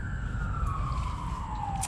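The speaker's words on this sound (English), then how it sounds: "We got our shirts soaking, sirens wailing." A siren wails steadily through the whole stretch, its tone gliding slowly downward over a low rumble of traffic, with no voices.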